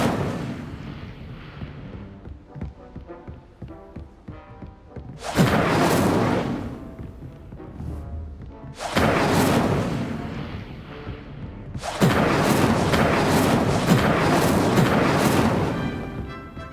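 Incendio fire spell cast in the video game Hogwarts Legacy, three loud whooshing blasts of flame, each a broad roaring burst lasting a second or more, over a quieter game soundscape.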